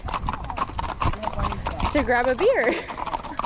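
Horse hooves clip-clop steadily on a trail during a rainy ride, close and rhythmic, while a rider talks over them.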